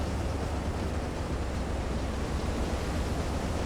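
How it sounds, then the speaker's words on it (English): Steady broadband rush of ocean waves in Silent Hunter 3 during a storm at sea, a continuous, loud wash of surf and wind with no distinct breaks and no talk. "these waves are slowing me down so much"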